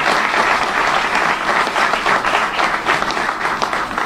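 An outdoor civic crowd in Chicago's Pullman neighborhood applauds steadily, dense clapping filling the whole stretch at a consistent, fairly loud level with no talking.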